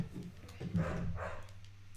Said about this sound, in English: It is just a very fussy puppy who does not like being left alone.